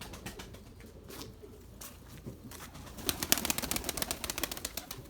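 Quiet low cooing from white Erzurum pigeons, then a rapid flurry of flapping wings toward the end.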